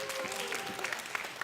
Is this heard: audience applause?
yes